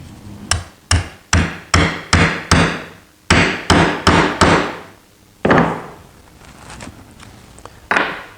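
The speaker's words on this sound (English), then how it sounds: "it's just as easy to punch a hole through it with a punch." A hammer drives a metal punch through carpet on a lawn chair frame in a run of about a dozen sharp, close metallic strikes, evenly spaced in two bursts with a short pause between.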